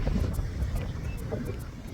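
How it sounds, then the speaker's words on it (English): Steady, heavy wind at a beach in Altura, Portugal buffets the microphone, a constant low rumble with gusty fluctuations throughout. "It is very windy."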